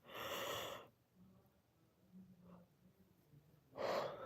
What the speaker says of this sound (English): I don't know why I'm yawning at like 10:39 at night